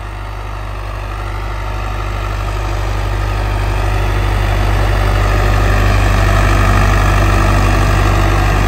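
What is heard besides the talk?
tractor engine running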